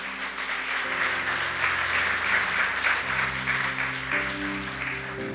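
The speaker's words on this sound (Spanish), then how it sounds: "Denle un fuerte aplauso al Señor." A church congregation applauds loudly and steadily, a dense wash of clapping over sustained keyboard chords that shift partway through.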